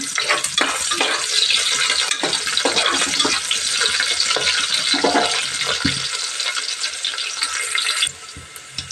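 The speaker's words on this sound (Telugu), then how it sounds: "నూనె అయితే కాగిందండి ఉల్లిపాయలు అయితే వేసేద్దాం ఫ్రెండ్స్ ఒక్కసారి కలుపుదాం" Onions frying in hot oil with steady sizzling broadband hiss throughout, stirred repeatedly with scraping strokes, close and loud with no talk.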